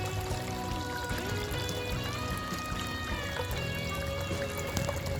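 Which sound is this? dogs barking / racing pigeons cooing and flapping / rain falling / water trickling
water trickling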